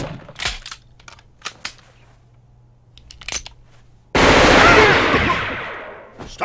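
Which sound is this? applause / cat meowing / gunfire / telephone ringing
gunfire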